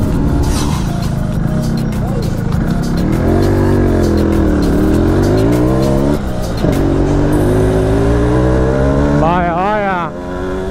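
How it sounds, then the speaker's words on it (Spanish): Busy street traffic in Cuba: cars and motorcycles pass close by, with engines revving and droning loudly and continuously, pitch rising and falling as vehicles approach and pull away. "Esto es un horario bastante complicado para el tráfico."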